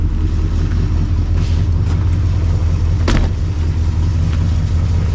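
An old carbureted Ford Custom 500, a retired North Carolina police car, idles steadily with a low, even rumble, close by and loud throughout, with no one speaking.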